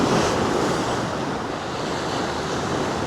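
Cold ocean waves surge and splash near someone fishing from rocks, a loud, continuous roar of surf mixed with wind buffeting the microphone.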